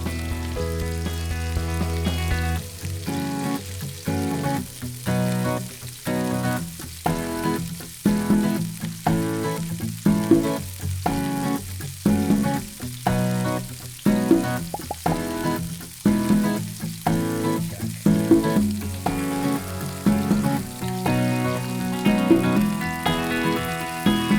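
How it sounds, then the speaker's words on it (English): Braciole browns in hot oil in a pan, giving a constant close sizzle and crackle with repeated rhythmic stirring scrapes and knocks running through it. "Stir the braciole in hot oil on all 4 sides until it starts to brown."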